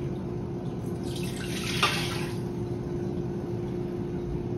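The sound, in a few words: pouring chicken broth into an Instant Pot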